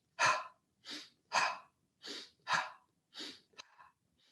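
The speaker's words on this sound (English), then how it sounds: "Inhale up, exhale down. On these, I like to open my mouth on the exhale." Mouth-open breathing during a Kundalini yoga lung exercise: six strong, evenly spaced breath bursts, alternating inhale and exhale, close and fairly loud, followed by a short catch and a fainter breath.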